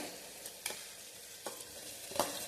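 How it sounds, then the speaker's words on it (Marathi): Ginger garlic paste frying in oil in a pan alongside tomatoes, giving a steady soft sizzle with a few brief stirring scrapes over about two seconds, with no talking. "आता मी याच्यामध्ये जिंजर गार्लिक पेस्ट टाकणार आहे"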